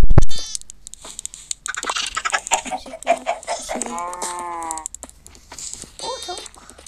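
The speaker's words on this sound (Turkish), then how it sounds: "O tavuk." Chicken clucking and squawking at close range, mixed with a higher bleating animal call and brief bursts of nearby human voices.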